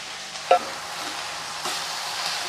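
Fenugreek leaves stirred in a frying pan while cooking poriyal, a soft steady sizzle with a sharp scrape of the spoon near the start and another light stir later.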